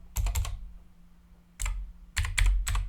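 Bursts of close, quiet clicking on a computer keyboard as a regular expression pattern is typed for a Python tutorial, in short clusters of keystrokes separated by pauses.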